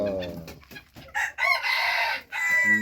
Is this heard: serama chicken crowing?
yes